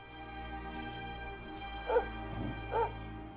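Sandy the dog in a video game gives two short barks about a second apart, moderately loud over a steady low game-music and ambient background.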